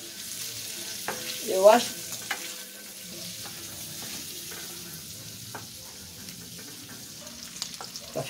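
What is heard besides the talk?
bacon frying in a pan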